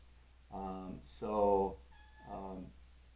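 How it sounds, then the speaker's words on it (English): A house cat meowing indoors: three distinct drawn-out meows, each clear and fairly close, with short quiet gaps between them. "Excuse my cat."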